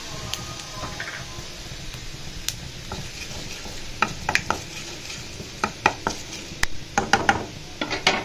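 Panch phoron and red chili powder sizzle in hot mustard oil, a constant crackling hiss punctuated by increasingly frequent sharp clicks and taps of a spoon against the pan.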